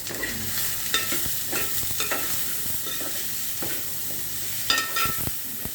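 Ivy gourd curry with coconut being stirred in a hot pan, a close sizzle of oil under repeated scraping strokes of a spoon against the pan, irregular and fairly loud.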